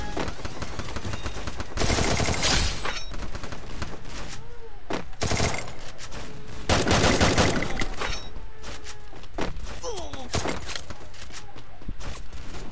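Rapid bursts of gunfire in a video game, loud clustered volleys of automatic fire separated by brief lulls, with someone talking over the action.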